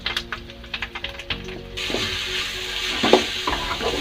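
Three chopped onions tipped into hot oil with ginger, first a few clinks and stirs, then a steady close sizzle of frying that carries on under occasional scraping.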